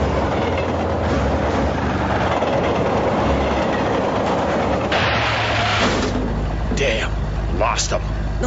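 A train rushes past in an animated cartoon chase scene, a dense, continuous rumble and clatter of rail cars that holds loud throughout, then gives way to a shifted roar with brief bright bursts near the end.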